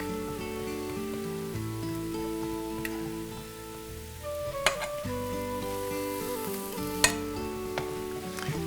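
Crepe batter cooking in a non-stick pan over medium-low heat, a quiet, steady sizzle with a hum underneath and a couple of sharp clicks from the pan.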